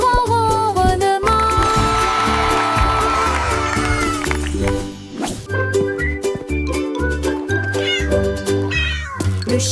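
Repeated cat meows ring out over a busy children's song with music throughout, loud and close, with voices and crowd-like cheering in the mix.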